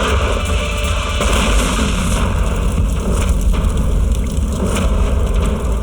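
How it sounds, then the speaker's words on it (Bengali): A booby-trap bomb set off by a bag of banknotes falling, heard as a loud, sustained roaring blast with dense rumble and crackle filling the whole stretch, no voices over it. "যেই ব্যাগ থেকে এই নোটগুলো বাইরে পড়লো, বম ট্রিগার হয়ে গেল।"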